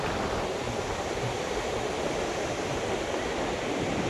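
Ocean surf on a beach in Bali, a broad steady wash of breaking waves with no clear individual crashes, constant and moderately loud with a hint of wind.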